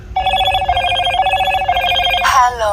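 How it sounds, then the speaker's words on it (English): A Motorola Moto E22i phone plays a bright, repeating electronic ringtone melody close up, steady and loud for a couple of seconds before a brief rising synth flourish at the end. "I just wanted to showcase these goofy ringtones that it's got."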